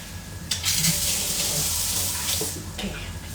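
Water runs steadily from a kitchen tap as hands are washed during home cooking of kadhi pakoda, a close, continuous splashing stream with a few brief changes in flow.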